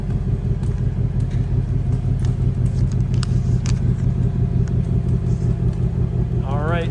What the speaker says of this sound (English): we'll listen to this exhaust at idle here.